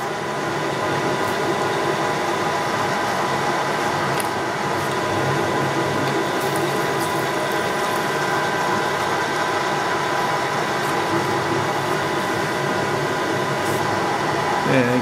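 A Chandler boring and facing head runs on a machine left idling, giving a steady, loud mechanical hum with faint rattles that holds evenly throughout with no clear talk.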